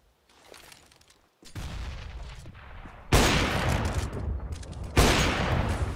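AWP sniper rifle fire in a CS:GO esports match: a softer shot, then two loud, sharp blasts, each followed by a long noisy decay.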